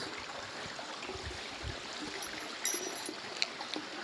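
Water flows steadily at Ghagheswari, a continuous soft rushing stream heard alone in a quiet outdoor spot, with a few faint brief sounds.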